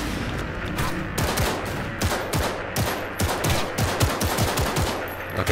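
Pistol gunfire from Cyberpunk 2077 in a dense run of sharp shots, close and loud, with other bursts overlapping into a rapid fusillade over steady game ambience, no talk.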